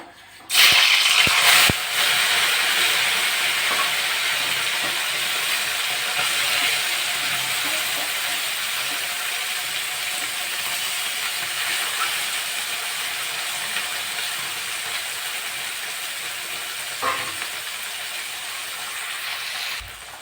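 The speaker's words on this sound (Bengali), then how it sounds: "তেলটা গরম হয়ে গেছে, মাছগুলো ভেজে নেব।" Small fish frying in hot oil, a loud, steady hiss that carries through the whole stretch, with a few sharp clacks near the start and one near the end.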